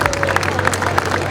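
Crowd applause at a speedway cup semi-final meeting between Somerset Rebels and Belle Vue Aces, steady clapping with crowd murmur and speech babble over a low hum.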